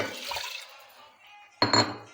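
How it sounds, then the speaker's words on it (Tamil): Water is poured from a tumbler into a pressure cooker while pongal is made with rice and moong dal, a short liquid splash with a brief metallic clink, followed by a quiet pause and a second louder pour-and-clink burst near the end. "நம்ம குக்கரில் போட்டுக்கலாம் ரெண்டு டம்ளர் தண்ணி"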